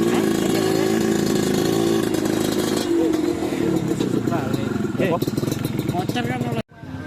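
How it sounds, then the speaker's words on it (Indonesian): Motorcycle engine buzzing at close range as it starts and revs, its pitch rising and falling, with people talking over it before it cuts off abruptly. "Motor kan mulai."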